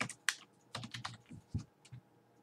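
Close, irregular keystrokes on a computer keyboard as C# code for a DirectX 3D terrain generator is typed, a quick run of clicks and taps with short gaps and no voices.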